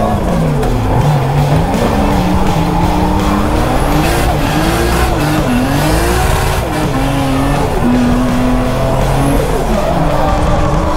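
A car drifts with loud tires squealing continuously over a roaring, rising and falling engine, close and sustained for about eleven seconds.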